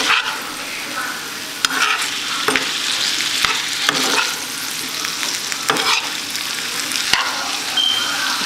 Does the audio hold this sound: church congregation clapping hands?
no